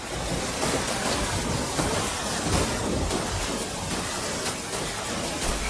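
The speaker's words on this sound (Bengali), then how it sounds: "দেখেছো বাবা, কত জোরে বৃষ্টি হচ্ছে?" Heavy rain pours down in a thunderstorm, producing a loud, dense, continuous roar with low rumbling underneath, steady throughout without any voices.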